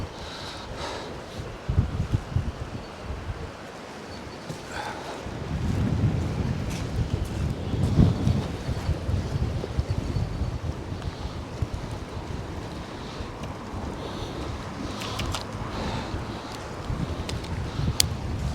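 Strong wind blowing across the shore of Poole Harbour during a storm, a heavy, gusting low roar that buffets the mic, with scattered light knocks and rustles from fishing gear mixed in.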